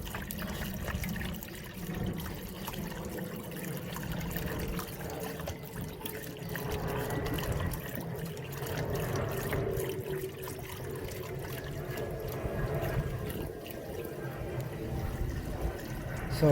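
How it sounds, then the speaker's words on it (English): Liquid coolant is poured through a clean funnel into the radiator of a 35 kW Briggs & Stratton generator, making a steady, soft trickling and gurgling that runs continuously at low level. "just pour it in."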